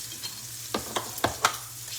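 Onions and peppers hitting a hot pan with pork steak, a soft steady sizzle with a few sharp crackling pops, close and quiet with no voices.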